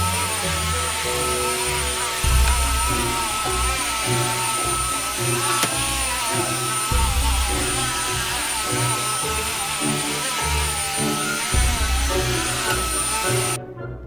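A Quantum X vacuum cleaner runs on a rug with a loud, constant motor roar and airy hiss, close by and unbroken throughout, with small bumps as it moves.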